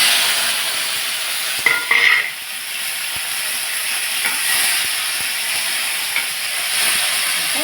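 Tomatoes fry in a pan with a steady, bright sizzle and hiss that carries on throughout, broken by a few faint clicks and a short stir.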